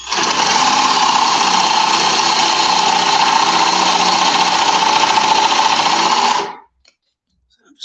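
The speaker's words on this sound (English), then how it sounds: "So I've got my hand behind the drill." A power drill bores a lock hole through a wooden door with a loud, steady, high-pitched whine. It runs close and unbroken for about six seconds, then stops abruptly into quiet.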